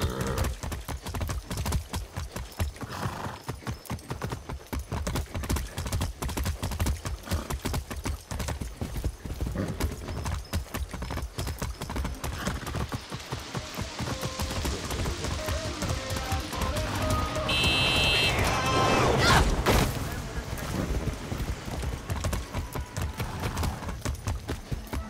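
Horse hooves clip-clopping in the video game Far Cry 6, a steady galloping rhythm running throughout with occasional whinnies and game ambience layered over it.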